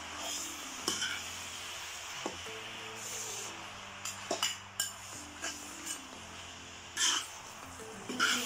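Egg being stir-fried with cabbage and glass noodles in a pan, with a steady low sizzle under scattered sharp scrapes and clinks of a utensil against the pan, and several louder knocks near the end.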